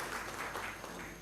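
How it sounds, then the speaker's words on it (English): An audience claps for Anjali Rawat and her team at a World Population Day gathering, a soft, steady patter of many hands that carries on evenly for about a second without a break. "So kindly you clap her and her team"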